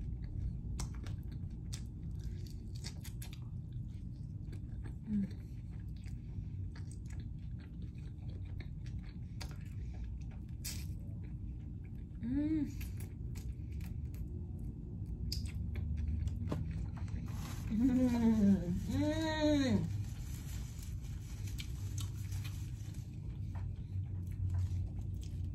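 Close, soft chewing and biting of lemon pepper chicken wings, with quiet wet squishy mouth sounds throughout and a brief hummed murmur of approval near the end.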